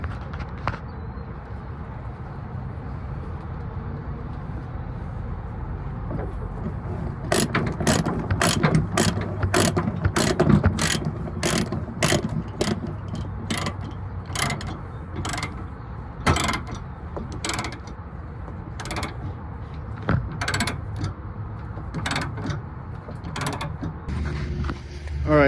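Ratchet binders clack repeatedly as chains are tightened to secure a Cat backhoe on a trailer, quick uneven runs of sharp clicks after a stretch of low outdoor rumble, close and clear.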